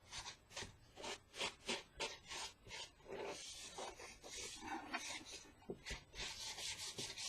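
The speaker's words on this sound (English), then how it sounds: "I'm just going to wipe off the excess wet paint." Wet excess paint being wiped off a wooden bath sign with a cloth, giving soft, repeated rubbing strokes that come in rhythmic bursts, close and fairly quiet, with no talking.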